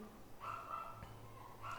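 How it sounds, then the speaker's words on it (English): A neighbor's dog gives a couple of short, fairly faint barks or yips, heard in the distance. "Neighbor's dog doesn't speak English."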